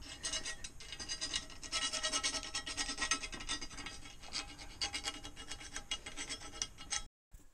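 A hand file rasping a slot in a metal tube for an industrial-style desk, steady rapid back-and-forth strokes, loud and close for about seven seconds before stopping abruptly.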